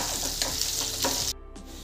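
Sliced onions and green chilies sizzle and fry in hot oil in a pan while making a spinach and pea curry, a steady close crackle with a few stirring scrapes before the sizzle softens near the end.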